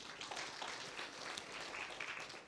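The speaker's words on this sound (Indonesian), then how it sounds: "Kasih tepuk tangan yuk buat Tuhan" A church congregation applauds during a worship service, a soft, fairly distant spread of clapping that stays even across the short stretch, with no voices.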